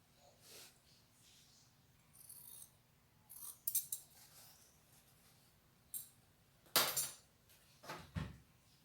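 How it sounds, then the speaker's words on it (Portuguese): Scissors snipping through a strip of fabric while making a patchwork dish towel border: a few short, sharp cuts heard close and quiet, separated by pauses of near silence. "essa faixa eu vou cortar na mesma medida aqui"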